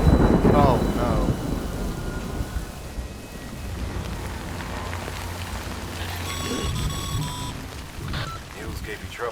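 Rain and thunder in a video game: a loud rumble opens, then rain patters steadily beneath game sounds and tones, with a voice speaking over the storm.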